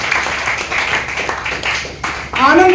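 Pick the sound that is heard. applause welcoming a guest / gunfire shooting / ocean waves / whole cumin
applause welcoming a guest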